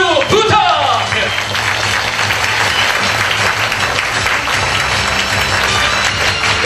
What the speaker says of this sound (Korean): 유 주무관 나오실 때 뜨거운 박수 부탁드려요.